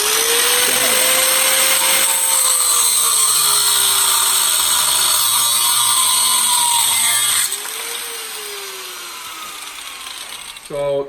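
A power tool grinds through the head of a bolt for a DIY cable railing, a loud, continuous whining cut with a wavering pitch that drops in level near the end before a brief final clatter.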